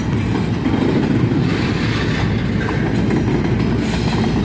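CSX ET44AH locomotive rumbling past close by with continuous loud, dense roar and rail clatter, steady throughout with no pauses.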